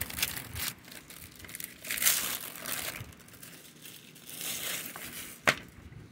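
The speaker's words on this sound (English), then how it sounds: "Now we're going to take that plastic off and see what's inside." Plastic wrap crinkles and tears as it is peeled off a DVD case, close crackling in uneven bursts with a sharp snap near the end.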